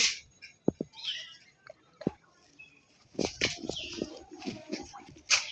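A Madras pigeon coos and flaps its wings close by, with short soft bursts of wingbeats and low cooing that grow busier and more continuous in the second half.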